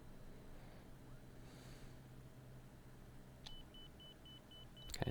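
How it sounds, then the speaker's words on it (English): Inner marker beacon in Microsoft Flight Simulator: a steady series of short, evenly spaced high beeps starting partway through, over a constant low engine and cockpit rumble, ending with a louder thump. "Okay, that's the inner marker."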